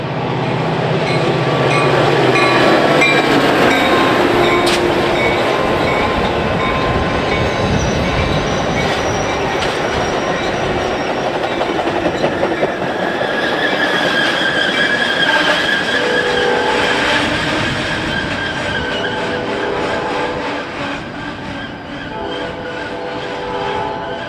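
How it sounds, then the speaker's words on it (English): A BNSF commuter train led by F40PHM-3 locomotive number 208 rolls past loudly, with a sustained rumble, wheel squeal and rail clatter, while high-pitched tones ring out in the latter half. "Leading the train is F40 PHM-3 number 208, appropriately named for the village of LaGrange."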